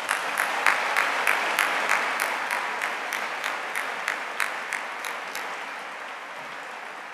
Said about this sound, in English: So let's applaud Rachel as well.